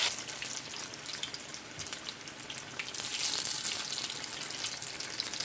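Akara batter drops into hot frying oil with a steady, close sizzle and crackle that swells partway through and holds loud to the end, with no talk.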